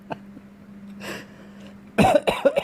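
A fruit bat coughing: a short harsh burst of cough-like sounds near the end, close and fairly loud, preceded by faint breathy rustling and a low steady hum.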